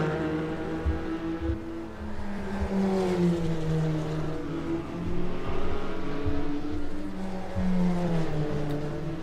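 GT4 race cars in a racing video game circuit, their engines droning and revving steadily with shifting pitch as cars run close together, a continuous loud mechanical hum without talk.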